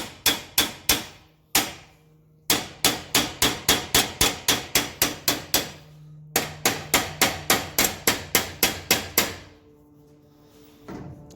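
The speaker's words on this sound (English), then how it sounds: "This is where you can get your hammer." Steady hammer blows ring on sheet metal being shaped into a homemade LS turbo hot side for an LS-swapped Camaro, loud and close in rapid runs of a dozen or more strikes, with short pauses between bursts.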